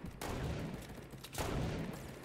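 Sustained bursts of rapid submachine gun fire in Fortnite, loud and dense, with two sharper volleys standing out over a continuous rattle.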